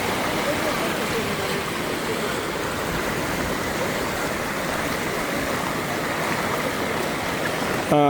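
Dense, steady rushing of fast-flowing floodwater fills the whole stretch, loud and close, with no letup, in a village in Kilinochchi, Sri Lanka.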